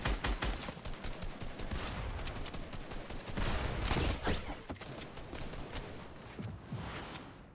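Assault rifle fire in Fortnite, a dense, steady stream of rapid shots with some louder peaks, heard close and without talk.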